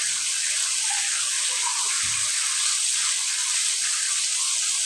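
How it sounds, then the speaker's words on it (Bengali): Water pours into a pot of country chicken curry with tomato and potato, a steady hissing rush that may carry a faint sizzle, with no talking. "তখন আমি সিদ্ধ হওয়ার জন্য একটু পানি দিয়ে দিব"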